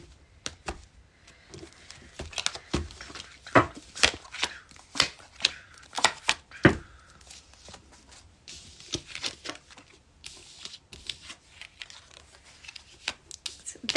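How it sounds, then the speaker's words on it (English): A tarot deck being cut and handled during a channeled card reading, giving a run of sharp, crisp card snaps and riffles in irregular bursts with soft rustling between them. "Cut the deck."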